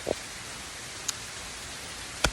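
Steady rain during Hurricane Helene, a soft continuous hiss with a few sharp drip or tap sounds standing out near the start, middle and end.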